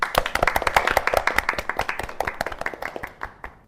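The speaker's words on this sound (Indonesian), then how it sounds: "Kita beri aplaus untuk kita semua." An indoor audience at a community anti-trafficking simulation event claps together, a dense burst of close hand claps that gradually thins and fades out.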